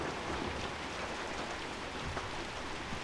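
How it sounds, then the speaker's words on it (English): Steady rain falling outdoors in swampy surroundings, a dense even hiss of drops throughout, fairly faint and without talk. "The rain's calming down."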